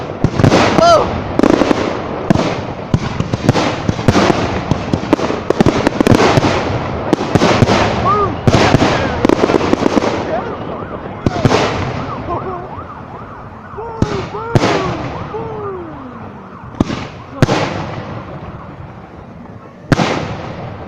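New Year's Eve fireworks for 2022 burst in a rapid string of loud, sharp cracks and booms, some close and echoing, while a crowd whoops and cheers, and a whistling siren-like wail rises between the bursts.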